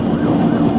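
A police car siren wails during a high-speed highway pursuit on I-40, a loud wavering tone over steady road roar in a brief burst.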